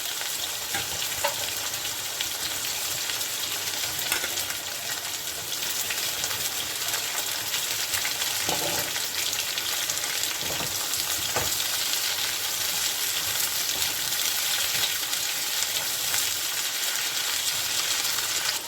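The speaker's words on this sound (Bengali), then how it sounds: "তেলটা আমার গরম হয়েছে, করলাগুলোকে আমি দিয়ে দিচ্ছি।" Thin slices of bitter gourd fry in hot oil with a steady, dense sizzle that stays loud and even throughout, with no talking over it.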